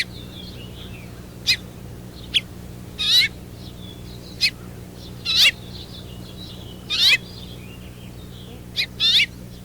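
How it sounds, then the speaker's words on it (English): A male finch perched and calling, giving short bright chirps that come in isolated bursts and brief doubled notes, spaced a second or two apart over a steady low hum. "The male returns to the perch where he sits contentedly and utters a new call."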